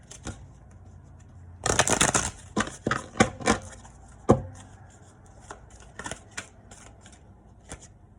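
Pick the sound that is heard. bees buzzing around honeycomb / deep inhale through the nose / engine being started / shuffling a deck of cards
shuffling a deck of cards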